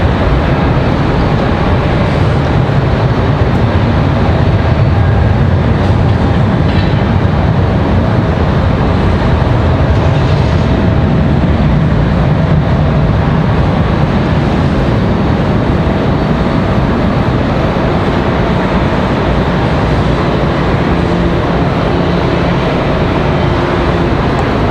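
A Delta jet airliner takes off at Raleigh Durham airport, a steady loud broadband engine roar that holds throughout with no break or talk.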